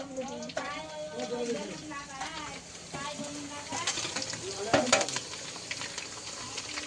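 Ingredients fry in hot oil over a high flame in a home kitchen, a steady sizzle with stirring and a louder crackle midway, under the chatter of several people talking.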